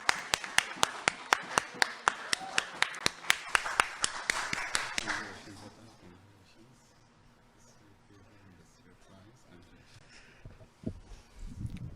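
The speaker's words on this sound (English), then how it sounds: "Give a big applause." Several people clap in sharp, separate strokes for a quiz prize winner at an awards event, loud and close for about five seconds before dying away, followed by quiet room sound and faint talk.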